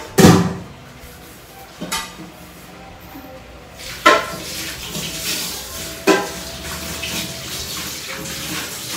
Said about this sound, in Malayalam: പാത്രം കഴുകണല്ലോ റബ്ബേ